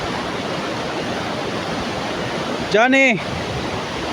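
Stream water flows with a constant rushing wash that sits close and fills the whole moment. A voice briefly calls out over it near the end.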